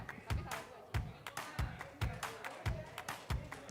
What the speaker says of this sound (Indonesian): kita kasih tepuk tangan buat kelompok 2